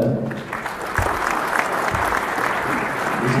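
Sustained applause from an audience at a Gomag community meetup in a Bucharest ballroom, a dense steady wash of many hands clapping with a few louder bursts, no clear voices on top.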